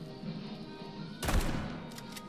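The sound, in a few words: gunfire from a weapon in the video game Atomic Heart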